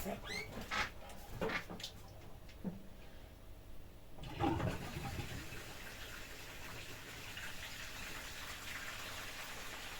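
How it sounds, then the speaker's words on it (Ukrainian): Water gushes and drains in a steady rushing flow after a few clicks and knocks, continuing evenly and softly to the end. "Я відкрию, щоб вода зливалася."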